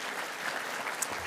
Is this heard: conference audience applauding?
yes